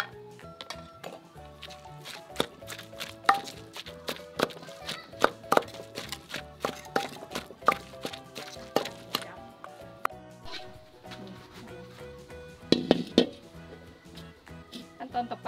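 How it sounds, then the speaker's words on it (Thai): A pestle pounding shrimp paste into a sweet chili dip in a mortar, steady close thuds in an uneven rhythm, some louder than others, under a melodic background track. "จากนั้นเราก็ตำให้เข้ากันอีกทีนะคะ"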